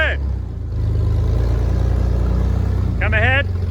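Exhaust of a Jeep LJ one-ton project build idling steadily with a deep, throbbing low rumble close by, while outdoor voices are heard briefly at the start and end.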